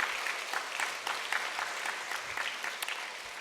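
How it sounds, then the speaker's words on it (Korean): Congregation applauding in an army headquarters church at a worship service, a steady, moderately distant patter of many hands clapping throughout with no talk. "크게 박수 한번 더 쳐주시죠"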